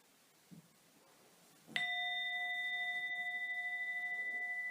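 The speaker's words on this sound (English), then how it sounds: "listen out for the sound of the bell that will carry you from Yoga Nidra back out to a more ordinary, everyday state of awareness" A single bell strike closes a Yoga Nidra session, followed by a clear, sustained ringing tone that slowly fades in a quiet room.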